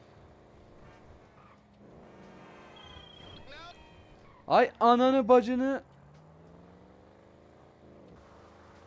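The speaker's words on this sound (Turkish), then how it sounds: "Bak bağırıyor araba." A car engine in GTA V hums and revs at a low level while someone shouts briefly in the middle, loud and close.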